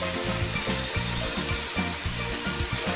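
Peas and tomatoes seasoned with salt, red chili and turmeric fry in a pan, a steady close sizzle with a rhythmic scraping pulse from stirring.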